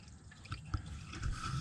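Motor oil drains from the oil pan of a Jeep JK into a catch pan, a continuous close trickle and splash with small drip-like plops. No one speaks.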